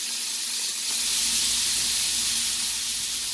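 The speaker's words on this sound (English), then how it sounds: "Love hearing that sizzle." Continuous loud sizzling and hissing of cashew chicken frying in a hot pan, steady and close with no talking.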